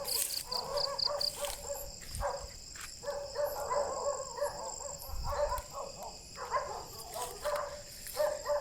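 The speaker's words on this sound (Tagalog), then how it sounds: "at tinatahulan na tayo ng mga aso." Dogs bark in scattered bursts at night, some near and some farther off, over a constant high chirring of insects.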